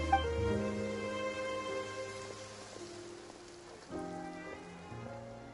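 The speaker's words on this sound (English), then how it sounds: "It rained for longer than I suspected." Rain falls steadily in the Genshin Impact video game, a soft continuous patter running beneath sustained game music for the whole stretch.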